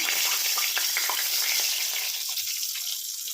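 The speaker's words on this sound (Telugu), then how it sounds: "ఇవి ఆయిల్లో వేద్దాం సిమ్లోనే పెట్టుకున్నాం" Baby corn lollipops fry in oil over a low flame, giving a steady, soft sizzle with faint bubbling that fades slightly toward the end; no voices.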